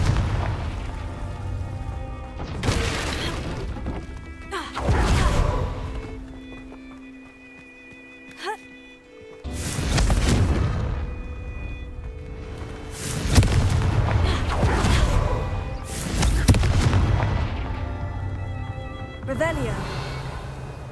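Repeated Confringo blasting spell explosions in Hogwarts Legacy, several booming bursts a few seconds apart, each with a bright crackling tail, loud and close, while a voice speaks between them.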